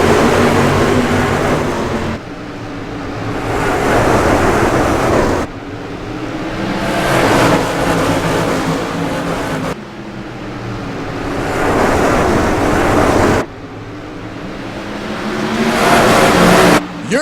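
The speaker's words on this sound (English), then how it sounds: "the sprint cars make their way into that fourth turn, ready to hit the front stretch" Sprint cars of the JSRL 360 series race around Irwindale Speedway, loud engines swelling and fading as the pack roars past in repeated waves, with sharp drops between passes.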